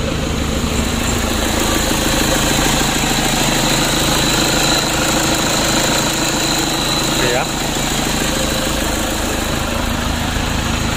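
Toyota Innova with a 2KD diesel engine idling after a long crank, giving a steady, close, rattly idle throughout with no talking.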